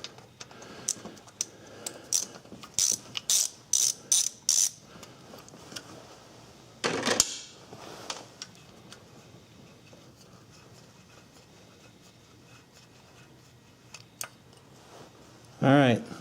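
Ratchet clicking in short bursts while an external E8 Torx bolt is backed out of the camshaft sensor on a Suzuki Forenza engine, close up, with longer pauses and a few scattered clanks between bursts.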